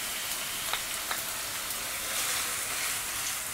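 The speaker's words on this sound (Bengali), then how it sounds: "পেঁয়াজ রসুন এবং শুকনো মরিচটাকে আমরা ব্রাউন করে ভেজে নিব" Chopped onion, garlic and dried chillies fry in hot oil for restaurant-style moong dal, a continuous hissing sizzle with occasional faint pops, close and moderately quiet.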